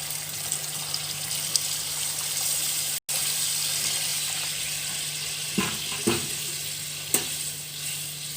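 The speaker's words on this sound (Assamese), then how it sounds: "এতিয়া মই ইয়াত পানী দিম।" Water is poured into a pan where tomatoes are cooking in oil for a sour curry, giving a steady hiss and sizzle with a few splashy bursts and a brief clatter.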